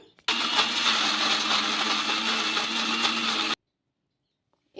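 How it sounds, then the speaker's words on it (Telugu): A mixer grinder whirs loudly and steadily for about three seconds, blending green pea idli batter, then cuts off abruptly into silence. "మూత పెట్టేసుకొని మెత్తగా మిక్సీ అయితే పట్టేసుకుందాం"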